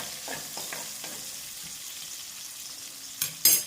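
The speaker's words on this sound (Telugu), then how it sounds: "ఆనియన్స్ కొంచెం వేగితే చాలు, ఎర్రగా వేగాల్సి లేదు, పింక్ కలర్లోకి చేంజ్ అయితే చాలు." Chopped onions frying in a pan for gongura curry make a steady, moderate sizzle, with a few soft stirring knocks and a louder clatter of utensils near the end, and no talking.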